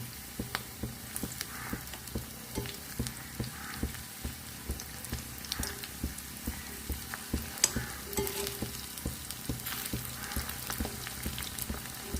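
Food fries in hot oil close by, a steady crackling sizzle dotted with sharp pops and spatters throughout, with no voices.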